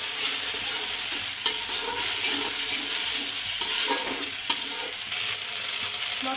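Spice paste with salt and dried chilli powder sizzles steadily in a pan while being stirred, a continuous close frying hiss with small scraping stirs and no talking, made as the base for a fish curry with cauliflower.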